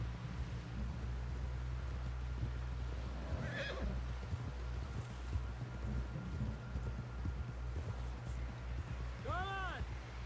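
A horse in Red Dead Redemption 2 trots with steady clip-clop hoofbeats under a low rumble, gives a whinny midway and a clear rising neigh near the end, with faint talk in the background.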